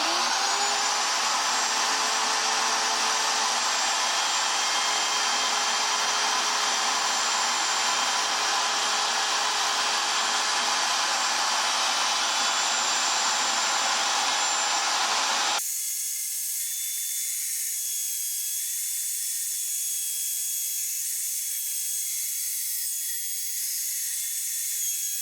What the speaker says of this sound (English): We're going to go flip the router on and route.